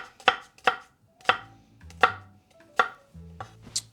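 A knife chops through half an onion on a board, with about eight sharp, close, evenly spaced chops and short pauses between them.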